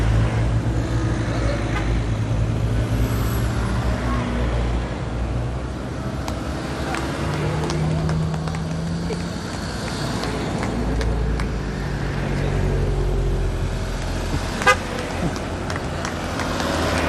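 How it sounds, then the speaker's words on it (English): Lead vehicles of a cycle race circle past during the final stage of the Rás Tailteann, with steady motor and traffic rumble, passing engine sweeps and occasional horn toots, plus scattered voices underneath. "Coming around, more lead cars coming around."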